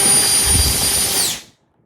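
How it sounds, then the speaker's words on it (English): A handheld air blower roars close up at full power with a harsh, whooshing, high-pitched whine, then cuts off and spins down to silence after about a second and a half. "Loud, but about kind of what you would expect, especially from an air blower."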